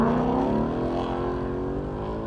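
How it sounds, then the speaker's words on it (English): A Mustang's V8 engine revs with a deep, throaty rumble, loud and close, holding a steady growl that slowly eases off over a couple of seconds. "did you know that's what a V8 sounds like?"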